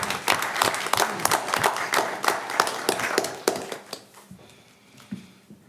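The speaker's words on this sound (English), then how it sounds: "I'd like to give a round of applause for any of our electrical people here" People at a town council meeting break into a round of applause for the town's electrical utility workers, a few seconds of brisk, dense clapping that thins into scattered claps and faint room noise.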